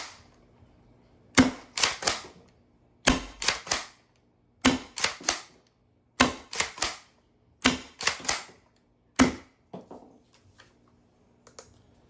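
Sharp snapping shots from an XYL Unicorn TE blaster firing Worker heavy 1.3 gram darts indoors, fired in six rapid bursts of three or four shots each, loud and close, with quiet gaps between volleys.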